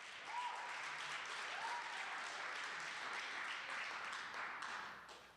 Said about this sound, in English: let's give a round of applause for Rosa Parks High School